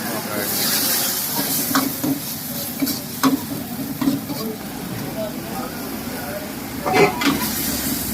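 At a street food stall, gobi chilli fries in hot oil with a continuous hissing sizzle. Sharp ladle clinks and taps punctuate it, and voices talk over it intermittently.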